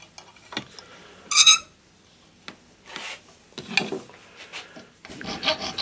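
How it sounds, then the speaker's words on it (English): A hand file shapes the end of a workpiece into a diamond point in a workshop, giving a few short, separate rasping strokes that come close and fairly loud with pauses between them. "Then file it to a diamond point."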